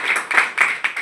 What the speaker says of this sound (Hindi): तो एक बार जोरदार तालियां सर के लिए।